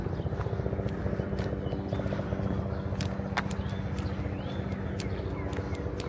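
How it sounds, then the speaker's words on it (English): A steady low droning helicopter rotor rumble fills the whole stretch, continuous and fairly distant over Manhattan's Upper West Side, with faint scattered clicks and knocks on top. "The helicopters just everywhere right now."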